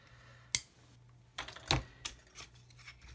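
A few quiet, sharp clicks and snips as a piece is cut off a plastic sprue from a 1/32 HK Models Lancaster kit, close by at a workbench, with soft handling sounds in between.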